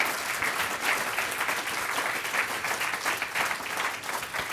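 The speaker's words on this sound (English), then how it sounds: "please give Karrie and all of our panelists another round of applause" A conference audience applauds panelists at the end of a preservation panel session: sustained, fairly faint clapping from a room full of people, dense and steady with no one speaking over it.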